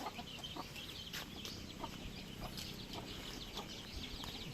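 Rhode Island Red chickens kept in a pen, clucking softly and steadily throughout with a few brief calls over a constant low background hum.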